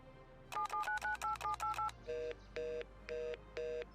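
Touch-tone keypad dialing on a phone inside a roleplay video game: a quick run of about ten beeps, then four longer, evenly spaced tones like a ringback, clear and close with no talking.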